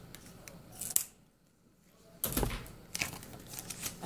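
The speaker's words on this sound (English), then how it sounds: "I just went ahead and cut off the plastic" Scissors snip a few times with crisp, close cuts through plastic packaging and rustling of plastic, separated by a short quiet pause.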